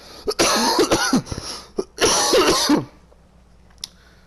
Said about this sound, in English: Sorry, guys. Coughing.